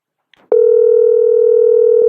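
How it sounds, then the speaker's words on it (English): Outgoing phone call to a line in Jamaica: a steady electronic ringing tone starts abruptly after a short click and holds loud and unbroken for the rest of the moment. "Oh, that's ringing."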